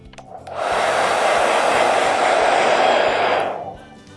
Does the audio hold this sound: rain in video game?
no